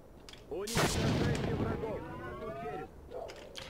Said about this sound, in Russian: Это звучит как гаусс-пушка.